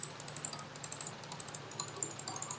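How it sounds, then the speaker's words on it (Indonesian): Quick, light clicks of computer keyboard keys being pressed, a steady run of soft taps close by and quiet, with no voices. "Kita tekan Alt pada keyboard."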